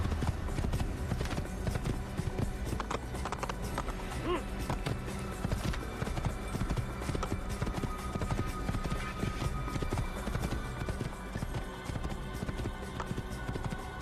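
Horse hooves clip-clop in a steady trotting rhythm on a road in the Assassin's Creed video game, continuous and moderately close beneath a bed of game ambience.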